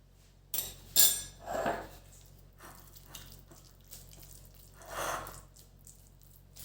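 A spoon scrapes and clinks against a cooking pot while a mixture is stirred, giving a few separate metallic knocks and swishes followed by a softer stir later on.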